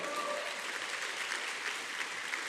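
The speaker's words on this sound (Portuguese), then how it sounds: "Dá um aplauso para Jesus." A church congregation applauds during a sermon, a dense continuous wash of clapping at a steady moderate level, with a brief tonal voice at the very start.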